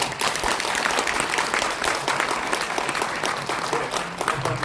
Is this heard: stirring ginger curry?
no